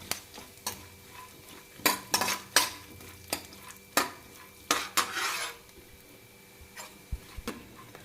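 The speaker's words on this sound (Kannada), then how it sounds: "ಬಾದಾಮಿ ಹುರ್ಕೊತಾ ಇದ್ದೀನಿ." A spoon scrapes and clinks against a pan while almonds and cashews roast, in irregular close taps and stirs with a faint sizzle beneath, no voices.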